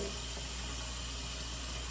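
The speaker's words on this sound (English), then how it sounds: "I'll put my saltfish under running water in the sink." Tap water runs steadily into a kitchen sink, rinsing saltfish held in a sieve: a constant close hiss and splash with no break, and no voices.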